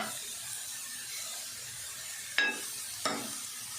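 Cauliflower frying in a pan, a faint steady sizzle and hiss with two brief scraping stirs near the end, with no talk.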